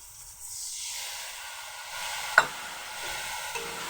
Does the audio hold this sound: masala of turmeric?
yes